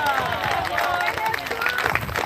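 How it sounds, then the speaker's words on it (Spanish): A congregation claps and cheers together, a dense continuous patter of hands with voices rising over it, fairly close. "Dele fuerte ese aplauso al Señor"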